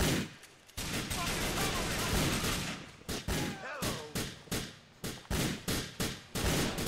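Rapid bursts of gunfire in the open-world game GTA IV crackle in repeated volleys, dense at first and then broken into a regular series of separate sharp shots.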